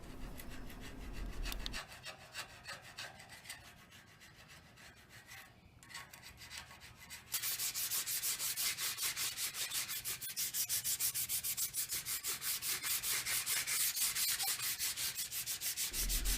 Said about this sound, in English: I'm scraping inch by inch and then sanding the residue off to make it completely clean so it seals properly